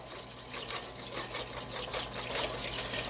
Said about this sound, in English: The whisking is causing some agitation in here